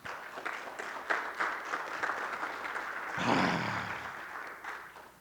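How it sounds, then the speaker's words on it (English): Applause from the audience at a TEDx event, a moderately quiet, continuous patter of many hands clapping that swells slightly midway and carries on to the end without speech over it. "give yourself one more round of applause, please"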